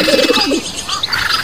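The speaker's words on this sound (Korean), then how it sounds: "새들의 파덕이는 날갯짓 소리와 구구짹짹 까악까악 하는 물음소리가 사방에 요란하게" Pigeons coo in soft, rolling phrases while small birds chirp brightly nearby, a busy, close chorus of calls.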